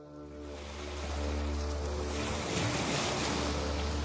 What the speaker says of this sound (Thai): เสียงคลื่นลมแรงขึ้นเป็นลำดับราวกับพายุกำลังจะมาเยือน